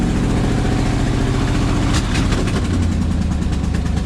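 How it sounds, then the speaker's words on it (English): A modified race truck engine idles loudly and steadily with a harsh exhaust leak, its low rumble continuous throughout and a brief rev change midway. "it still has this horrible exhaust leak"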